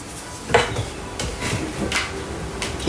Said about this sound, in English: So I'm going to give this a scrape down.